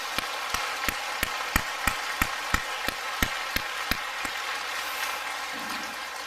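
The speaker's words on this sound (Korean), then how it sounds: "우리 왕 집사님께 큰 박수로 한번 격려 한번 해주세요." A church congregation claps in unison to cheer on the choir conductor: about a dozen sharp, evenly spaced claps at roughly three per second, crisp and prominent against a quiet room, then tapering into a softer wash.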